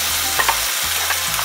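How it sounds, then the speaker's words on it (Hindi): Masala paste for stuffed karela frying in a pan, a loud, close sizzle with rhythmic stirring strokes scraping across the bottom every half second or so. "ये मैं मसाले को भून लूँगी।"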